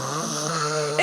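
A woman imitates her husband's loud snoring, a single drawn-out, rumbling nasal snore held steadily for about a second.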